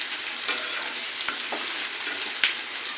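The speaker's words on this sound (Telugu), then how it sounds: "ఇంకా ఇవి హై ఫ్లేమ్లోనే వేయించుకోండి" Food frying hard in oil over a high flame, a steady close sizzle with occasional stirring scrapes and a few louder clanks.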